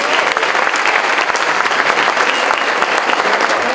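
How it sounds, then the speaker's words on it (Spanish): Loud, dense applause from a large crowd at a university event, steady and continuous throughout with no pauses. "Un fuerte aplauso"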